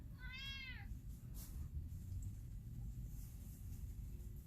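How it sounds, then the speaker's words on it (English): Indoor house cat gives one clear, close meow near the start, over a low rumbling background hum that continues after it. "that was the cat tattling on him."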